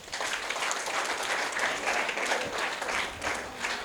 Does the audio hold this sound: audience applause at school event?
yes